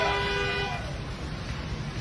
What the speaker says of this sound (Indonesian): semua kendaraan membunyikan klakson mobil yang membuat suara bising